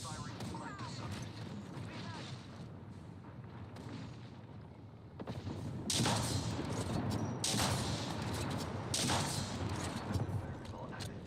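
Loud bursts of video game gunfire erupt in the second half, rapid overlapping shots and blasts following a quieter stretch of game ambience, with voices mixed in.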